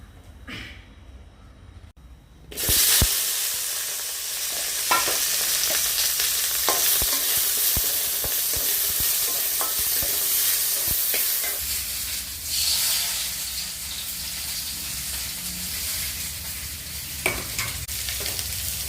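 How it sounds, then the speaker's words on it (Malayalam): After a quiet start, a sudden burst of sizzling as okra hits coconut oil, then steady frying hiss with intermittent stirring clatter. "ഇത് ഞാൻ ആദ്യക്ക് 4 വെണ്ടക്കായ ഒന്ന് വെറുതെ വാട്ടിയെടുക്കാൻ വേണ്ടിയിട്ട് വെളിച്ചെണ്ണ ഒഴിക്കാൻ കേട്ടോ"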